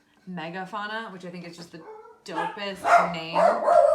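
A pet dog barks and yips loudly close by in bursts, over and after a person talking.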